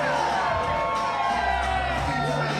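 A wrestling crowd in Holland roars with mixed cheers and boos, a dense, steady wall of voices from a packed arena that holds throughout, with shouts rising out of it.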